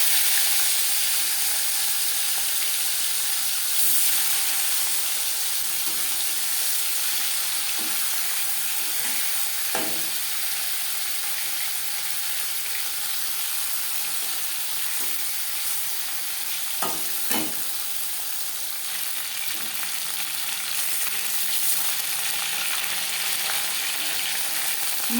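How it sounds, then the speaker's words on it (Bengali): Marinated aar fish head and pieces fry in hot oil, giving a loud, steady sizzle with occasional scrapes and clinks of a stirring utensil. "এবার দিয়ে দেবো ম্যারিনেট করে রাখা মাছের মাথা।"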